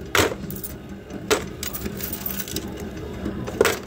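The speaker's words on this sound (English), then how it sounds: "Pull these keys out." Keys pulled out of a container and jangling, three short metallic clinking bursts spread over a few seconds against low background noise, close by.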